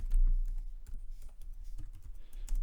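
Keys clatter on a computer keyboard in quick, uneven bursts, close and moderately loud over a low background rumble.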